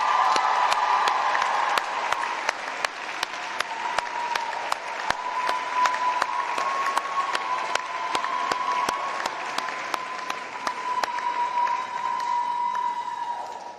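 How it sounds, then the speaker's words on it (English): A large audience at a winter university graduation ceremony gives sustained, loud applause for the graduates' supporters, a dense wash of clapping with sharp individual claps standing out, lasting well over ten seconds. "massive round of applause"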